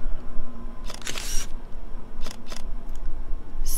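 Camera flash and shutter in the horror video game Dreadout: several sharp, bright mechanical clicks in short bursts over a low ambient hum, fairly close and clear with no voices.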